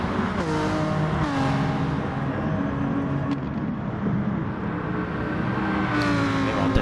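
A Lamborghini race car in GT Sport racing with its engine droning steadily, the pitch climbing and dropping through shifts, while other car engines blend in beneath it for the whole stretch.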